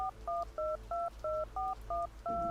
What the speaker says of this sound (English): I quickly pulled out my phone, my fingers trembling as I dialed Alex's number.